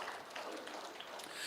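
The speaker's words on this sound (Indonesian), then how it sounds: "Tepuk tangan bagi Tuhan Yesus." Short burst of applause from a church congregation during a sermon, faint scattered clapping at low level with no voices over it.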